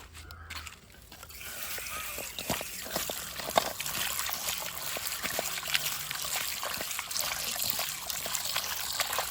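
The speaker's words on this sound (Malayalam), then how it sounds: "ജസ്റ്റ് ചെറുതായിട്ടൊന്ന് പൈപ്പ് തുറന്ന്." Tap water runs steadily from a kitchen faucet while raw chicken pieces are rinsed by hand, a continuous trickling, splashing stream close by with small knocks and clatters scattered through it and no talking.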